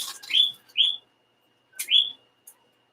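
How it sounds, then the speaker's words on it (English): A pet parrotlet, the smallest kind of parrot, lets out three loud, close, rising whistled calls indoors, two in quick succession, then a pause before the third. "Yes, parrotlet is the smallest parrot."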